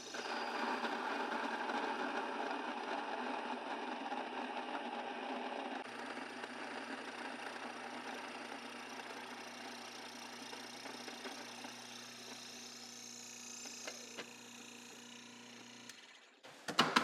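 A grain mill grinds flour straight into a bowl, giving a steady, moderately loud mechanical whir with a constant hum that runs alone for about sixteen seconds before stopping.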